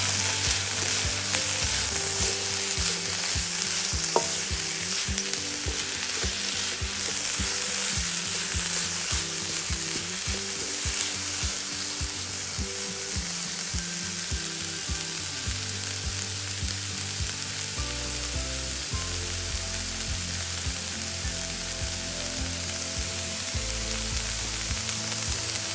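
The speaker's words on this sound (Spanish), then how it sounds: "Luego agregamos la zanahoria rallada. Seguimos moviendo." Grated carrot frying and being stirred in a hot pan, a steady loud sizzle with scraping stir strokes running throughout, no talking.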